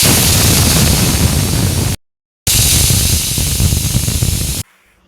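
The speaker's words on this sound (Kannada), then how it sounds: "ಮುಚ್ಚಳನ ಮುಚ್ಚಿ ಒಂದು ಎರಡು ವಿಷಲ್ ಕೂಗಿಸ್ಕೋಬೇಕು ಇವಾಗ ಎರಡು ವಿಷಲ್ ಆಗಲಿ" Pressure cooker cooking broad beans curry, a loud, continuous steam hiss that runs for about two seconds, cuts out briefly, then resumes before stopping abruptly.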